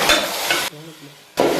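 A kilo of washed chicken hits sautéed tomato and onion for Chettinad chicken kuzhambu, giving loud bursts of stirring and sizzling broken by a brief quieter gap.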